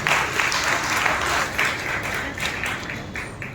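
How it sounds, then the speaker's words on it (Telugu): A church congregation at Sunday worship claps together in a sustained, fairly loud round of applause that gradually tapers off, with no voices over it. "చప్పట్లు పడి ప్రభుత్వం మహిమపరచాలి."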